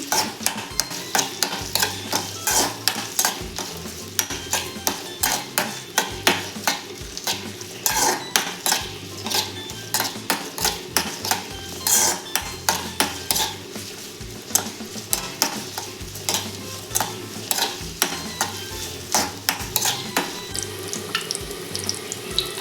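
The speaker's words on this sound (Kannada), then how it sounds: "ಸಣ್ಣ ಈರುಳ್ಳಿ ತಗೊಂಡಿದ್ದೀನಿ ಒಂದು ಫ್ರೈ ಮಾಡಬೇಕು" Small onions frying in oil in a pan for a village-style egg sambar, with constant busy sizzling and repeated clinks and scrapes of a stirring utensil, close and continuous with no talking.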